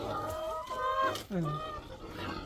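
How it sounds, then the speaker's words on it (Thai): Three-year-old laying hens kept on a small Thai farm cluck and murmur close by, with short clucks rising over a voice talking. "อันนี้เป็นไก่ไข่"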